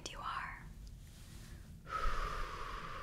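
A slow, deep breath drawn in and then released as a long airy exhale, close and soft, with a short quiet gap between the two.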